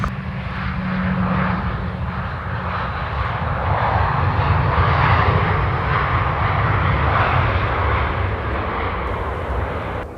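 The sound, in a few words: Airbus Beluga carrier plane flying past at the airport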